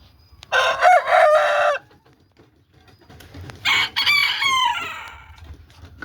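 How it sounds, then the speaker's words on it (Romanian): A small rooster crows twice from close by, each call strong and drawn out, separated by a brief quiet pause with faint background rustle. "Tot cocoș este și el."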